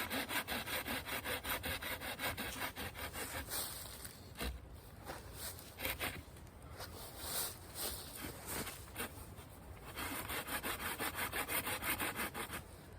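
Cheap budget folding saw cutting a log held between two trees outdoors, a close rhythmic rasp of back-and-forth strokes, briefly pausing midway before resuming steadily.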